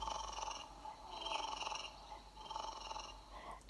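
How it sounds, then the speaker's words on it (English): Cat purring sound effect in a read-aloud of the picture book Room on the Broom, a close, rumbling purr in three steady breathing cycles, heard alone without talk. "How the cat purred!"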